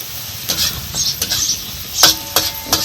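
Chili and chutney frying in hot oil for a village-style safflower greens dish: a steady close sizzle punctuated by several sharp scraping stirs of a spatula against the pan.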